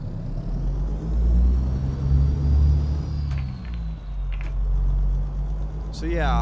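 A truck engine rumbles low and steady as it pulls out past a building and parked cars, rising and easing slightly, with someone talking over it.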